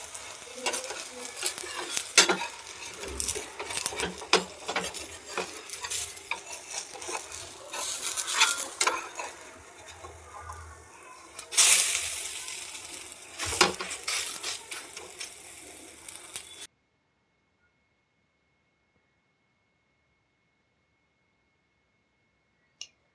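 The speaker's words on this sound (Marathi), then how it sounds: "चिलाच्या साईडने तेल टाकून घ्यायचं आहे आपल्याला आणि तेल पण असं छान असं पसरवलं गेलं पाहिजे." Soybean chilla frying in oil on a pan, a steady sizzle with stirring and utensil clicks that stops abruptly partway through, followed by near silence.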